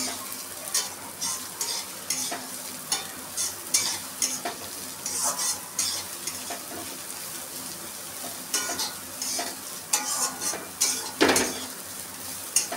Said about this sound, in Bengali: চিড়েগুলো দিয়ে এরকম করে ভেজে নেব।